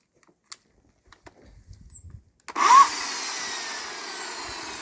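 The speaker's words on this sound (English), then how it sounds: "This is electric chainsaw." A cheap, nondescript electric chainsaw starts up after a few quiet clicks and handling noises, then runs with a steady loud whine and buzz that holds evenly to the end.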